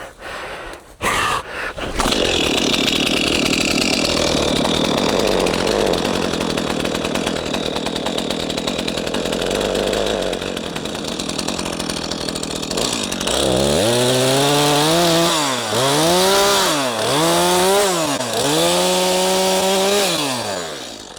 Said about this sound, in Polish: Tu przejdziemy, aby piła zapaliła.